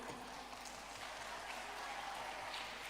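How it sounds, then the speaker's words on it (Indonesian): Audience applause at a school thanksgiving and student handover ceremony, a steady, fairly faint wash of clapping throughout with no talk. "tepuk tangan dulu."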